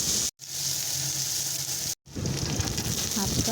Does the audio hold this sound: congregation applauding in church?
no